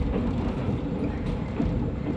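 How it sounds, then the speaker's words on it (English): Agawa Canyon tour train hauled by ex-Amtrak F40 locomotives departing Sault Ste. Marie, Ontario, a steady low rumble with faint rail rattle, continuous and close, no voices. "The train is departing."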